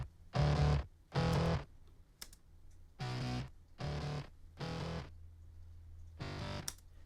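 Short bursts of a vocal run through the Tone Architect distortion plugin, gritty and saturated, arriving in five separate phrases with brief silences between them.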